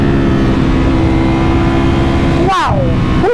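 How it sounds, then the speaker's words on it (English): Ducati Panigale V4 R motorcycle with a V4 engine running loud and close, a steady high engine drone that drops sharply near the end before picking up again. "What a screamer of a motorcycle."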